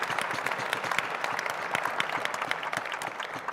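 A live audience applauds steadily after an answer from the Ontario Progressive Conservative Party leader, Patrick Brown: dense, continuous clapping that stays loud and even from start to finish, with no talking.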